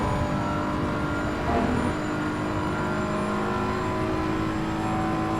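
A BMW M4 engine revving under hard acceleration on the Nürburgring at night in Assetto Corsa Evo, a steady, loud, sustained drone with little variation.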